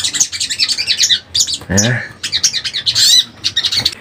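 A sunbird calls with rapid, high, sharp chirps and trills close by, while a voice speaks briefly in the middle.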